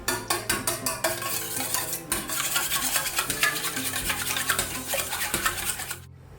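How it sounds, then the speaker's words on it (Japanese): Two eggs and cake flour for a Korean-style chive pancake batter are whisked briskly in a bowl, a rapid rhythmic scraping and tapping close up that slows briefly before stopping. "卵を2個に薄力粉を大さじに入れて混ぜるだけ。"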